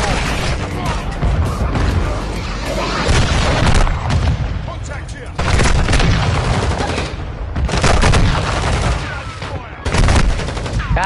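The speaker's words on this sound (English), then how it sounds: "Hostile cruise missile launch." Booming blasts and rapid gunfire from a Call of Duty: Modern Warfare II match as a cruise missile is launched and strikes, loud dense bursts recurring throughout with brief lulls, under game voice callouts.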